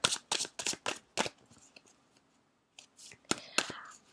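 A deck of tarot cards is shuffled in quick riffling bursts, several sharp flutters close up, then a pause before a few more shuffles.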